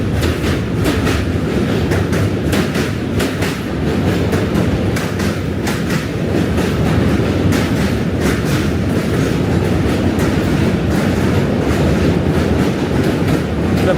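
A train rolls past in Manhattan, its wheels keeping up a continuous, loud clickety-clack rhythm for the whole stretch with no talk over it.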